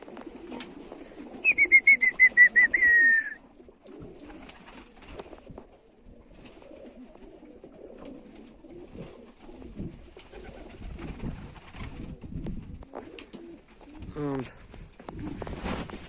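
Budapest tumbler pigeons coo nearby in a short rhythmic burst early on and again faintly later, amid rustling and a person talking quietly.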